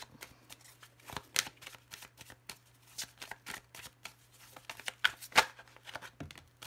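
Tarot cards shuffled by hand in close, crisp riffles and flicks, with a few sharper snaps as cards spring loose from the deck, irregular bursts against quiet background and no talk.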